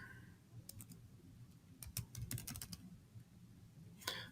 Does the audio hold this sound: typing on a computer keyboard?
yes